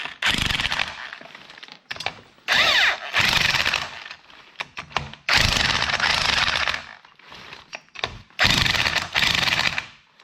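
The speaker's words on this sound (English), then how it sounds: "so we are going to use the impact wrench" An impact wrench cranks a coil spring compressor during a rear coil and shock lift install on an FJ Cruiser or 4Runner, firing in several loud, close, rattling bursts of a few seconds each with short pauses between them.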